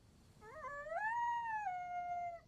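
Rex, a dog in the video game Fallout, lets out a single long rising then falling howl, clear and tonal, alone against quiet background.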